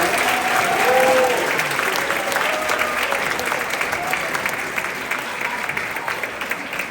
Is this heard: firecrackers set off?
no